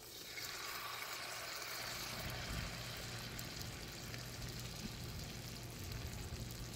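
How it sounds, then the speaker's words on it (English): Eggs fry on a CampMaid Flip Grill griddle in a steady, soft sizzle and hiss that holds for several seconds, with a low background hum and no voices. "We're going to add our eggs."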